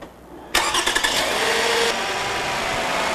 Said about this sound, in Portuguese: Agora ele vai ligar o motor.